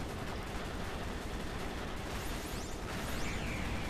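Continuous shooting in the video game GunDeadLine during a boss fight, a dense, unbroken rattle of rapid gunfire with faint higher effects near the end and no voices.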